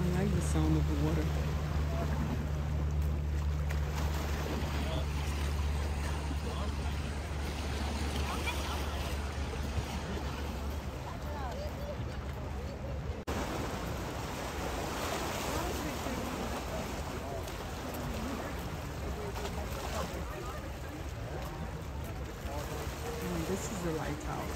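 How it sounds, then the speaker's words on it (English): Lake water laps and washes near a lighthouse on the Oakville lakeshore, a steady broadband wash of small waves mixed with wind rumble, continuous and fairly close, with faint voices in the background. "I like the sound of the water."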